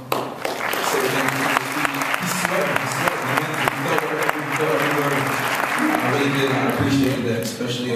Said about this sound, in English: I just want to give him another round of applause